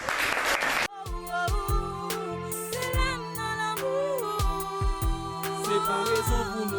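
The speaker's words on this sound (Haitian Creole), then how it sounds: "Sur vos applaudissements" An audience bursts into applause in a brief loud clatter of clapping that cuts off after about a second, giving way to music.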